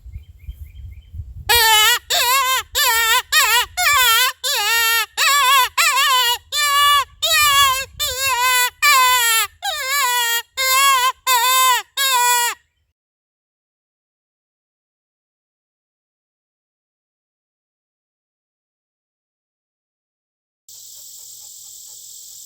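A custom open reed coyote hunting call blown in a rapid series of about fourteen short, loud, wavering squalls, followed by long silence and a faint hiss at the end.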